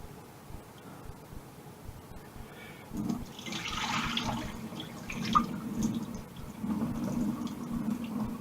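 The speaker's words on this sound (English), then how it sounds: "Wash it like that 5-6 times until the water runs clear and you've rinsed all the starch off it." Rice rinsed in water in a kitchen, the water swishing and splashing steadily for several seconds at close range, growing louder midway, with no talking over it.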